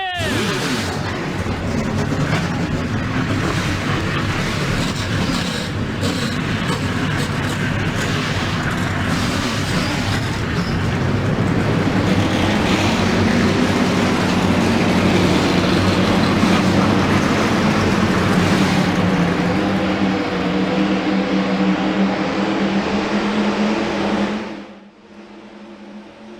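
Engines of stock cars fire up together in the NASCAR Racing 2003 video game at Lanier, a loud sustained roar that fills the scene for about twenty-four seconds and then cuts off sharply.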